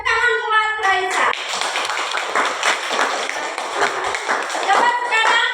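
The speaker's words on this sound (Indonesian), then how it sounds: "Tepuk tangan buat Raisa." A classroom of students claps for a classmate, a burst of quick, uneven hand claps close by that begins after a teacher's voice and continues to the end.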